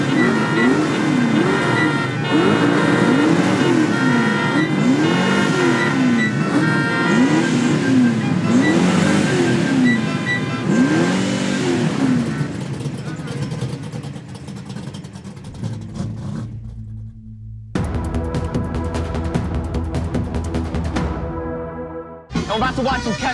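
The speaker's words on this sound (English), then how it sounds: "now we're going to ask all our Trans Am owners to get behind the wheel, rev those engines" Several Trans Am cars rev their engines together at a gathering, a loud, sustained roar with rising and falling pitch that drops off briefly near the end before surging again.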